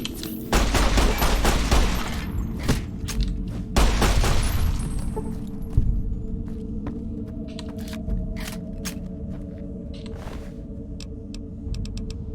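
An incendiary grenade goes off in Fallout: New Vegas, a loud burst of bangs and crackling blasts in the first seconds, followed by sparser sharp pops and clicks as the fire burns on.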